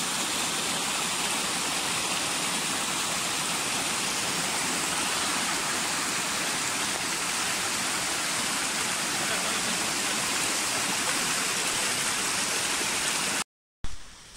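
Continuous rushing hiss of the Hwai waterfall flowing, broad and steady for about thirteen seconds before cutting off abruptly, with no voices heard over the water.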